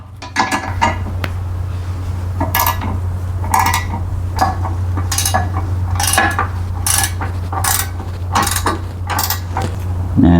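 A long-reach flex-head ratcheting wrench turns a nut, giving a run of sharp, close metallic clicks in irregular bursts over a steady low hum, with no talking.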